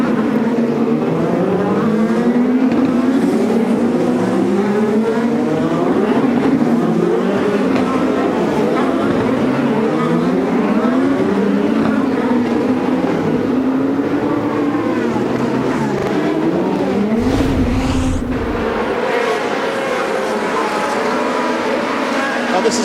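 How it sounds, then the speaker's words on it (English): IndyCar race cars scream past on the Toronto street circuit during the 2013 Honda Indy, a sustained loud engine drone rising and falling with each car, with a commentator talking over it throughout. "Look at the speed of the cars on the freeway in comparison to Sebastian Bourdais blowing by there."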